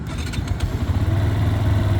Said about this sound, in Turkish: Motorumuzu bir çalıştıralım sesini duyalım. Basıyorum marşa.